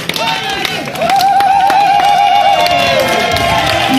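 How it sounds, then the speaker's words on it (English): A concert audience shouts, screams and cheers loudly in a big hall, with high whooping voices rising and falling over a dense roar of the crowd that swells after the first second. "Louise, the Canadian, they're shouting for you"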